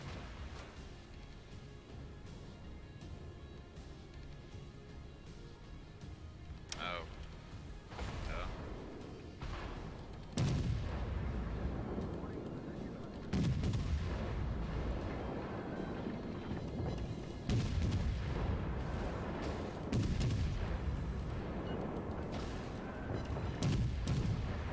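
Naval gunfire in the World of Warships video game arrives as a series of heavy booming shots over a low rumbling background, with several loud blasts spaced irregularly across the stretch.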